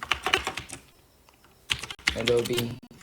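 Quick bursts of typing on a computer keyboard, entering a search in a Chrome browser, come in two short runs of crisp key clicks while someone talks over the second run.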